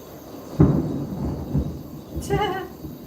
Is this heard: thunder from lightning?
yes